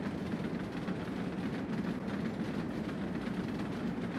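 A video game train rolling over a bridge, a dense continuous rumbling clatter that stays steady and fairly loud with no talking.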